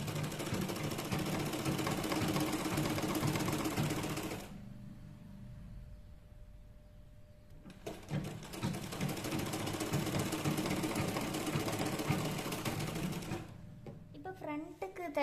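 Sewing machine stitching a round neckline, a loud steady mechanical whir running continuously, stopping for a few seconds, then resuming before a final pause with a few clicks.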